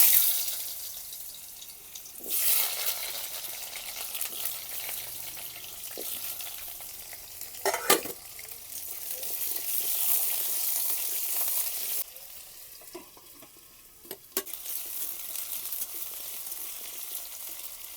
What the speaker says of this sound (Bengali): আলু ভাজার জন্য তেল দিয়ে দেব।